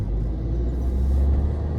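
A 2011 Fiat Fiorino Emotion with a 1.3 Multijet 95 hp diesel engine gets a light throttle blip, a low, close rumble that swells briefly and settles back toward idle.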